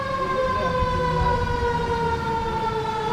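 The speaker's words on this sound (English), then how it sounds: "Hearing the fire trucks here." Fire truck sirens wail outdoors in Buffalo during a press event after a court arraignment, a loud, sustained, wavering tone that fills the whole stretch without any clear speech over it.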